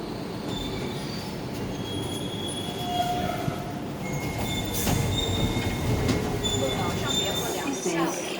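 A DLR light-rail train running between Canary Wharf and Lewisham gives a steady, close rumble throughout, with squealing wheels and high metallic whines rising at times, and faint voices underneath.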